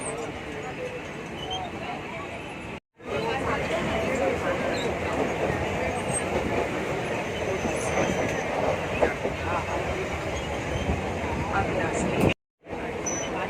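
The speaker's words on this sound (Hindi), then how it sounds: "आ गई हमारी लोकल।" A crowded Mumbai suburban local train runs between stations near Goregaon, giving a steady, loud rumble and rattle of carriages throughout, with brief cutouts.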